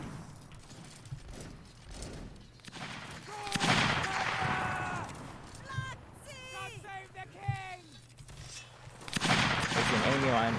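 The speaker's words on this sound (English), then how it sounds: "Continue to fire." Musket line volley fire in a multiplayer black-powder battle game, with crackling rolls of gunshots coming from near and far, mixed with shouted voices and game noise, while players talk over the top.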